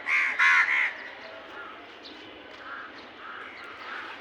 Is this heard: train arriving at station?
no